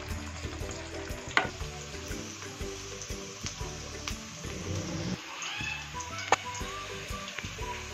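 Onions frying in ghee for daal mash, a steady close sizzle with occasional stirring clatters and scraping, no talking.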